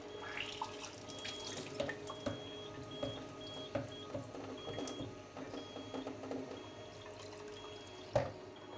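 Strong alkaline water pours from an Enagic Kangen water machine, a thin steady trickle with faint mechanical whirring and intermittent clinks, moderately quiet and close.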